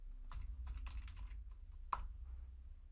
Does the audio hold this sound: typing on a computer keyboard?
yes